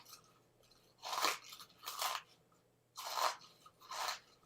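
Jalapeño cheddar Cheetos crunch in four distinct bites heard close up, each a sharp, dry burst of chewing separated by short pauses, fairly quiet with no talk.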